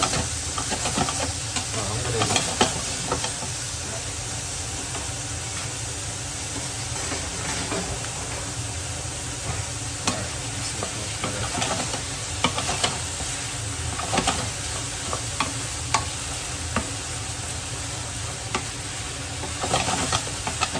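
Chicken kimchi ingredients with salt and sugar get stirred in a hot pan, a continuous close sizzle and hiss carrying scattered scraping stir strokes, with no voices over it.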